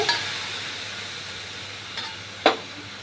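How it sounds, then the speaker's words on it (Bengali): Grated and chopped pineapple cooks in a wok for chutney, giving a low steady hiss with a few sharp sizzling bursts, the loudest near the end, and no talking. "এটা প্রথমে কড়াই বসিয়ে ওতে দিয়ে দিলাম আনারসটা"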